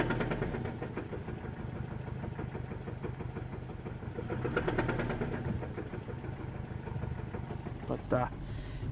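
A 2007 Saturn Ion idling after a cold start, a steady low engine hum with slight rises in revs, close by, with a voice talking over it.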